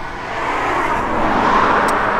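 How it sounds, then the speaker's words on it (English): A car passes on a busy road, its tire and engine noise swelling gradually as it approaches and staying broad and steady over the short span. "we've got another car going by"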